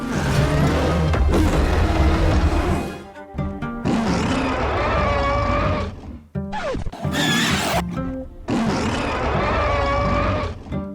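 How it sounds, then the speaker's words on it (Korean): King Kong's roar from Godzilla vs Kong, a reused 1976 King Kong roar with sharper, shrill screeches mixed in, comes as loud, drawn-out bellowing bursts separated by short gaps. "콩이 내지르는 표현은 평소 콩의 울음소리와 다르게 조금 더 재지고 날카로운 울음소리가 섞여 있는데요"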